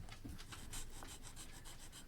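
A sanding stick rubs over small plastic parts of a 1/35 Academy AH-1Z Viper model kit, making a faint, repeated scratchy rasp in quick short strokes, close by and quiet.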